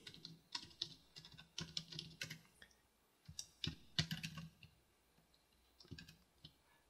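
Command being typed on a computer keyboard to edit a Raspberry Pi 3 boot config: quick, close, uneven bursts of crisp key clicks with short pauses between groups, no voices.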